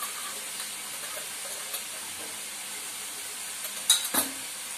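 A steady soft sizzle of stir-frying with chili masala, turmeric and salt in oil, with light clinks of a utensil against the pan near the end.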